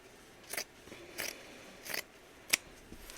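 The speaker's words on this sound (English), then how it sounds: "I'm just gonna cut the extra fabric" Scissors cutting extra fabric for a mini album craft project; four quick, crisp snips spaced roughly evenly, close and fairly quiet, with no talking.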